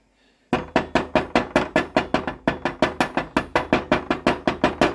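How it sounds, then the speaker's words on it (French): A small hammer chips welding slag off 6 mm steel rebar in a rapid, even series of about twenty sharp metallic taps, close and loud, with no talking. "Ce qu'on fait ensuite, c'est qu'on se saisit du petit marteau"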